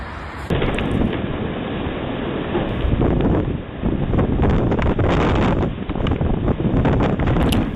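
Strong wind roaring and buffeting a doorbell camera's microphone outdoors, a loud continuous rush with gusty surges and rattling bursts for several seconds, no voices.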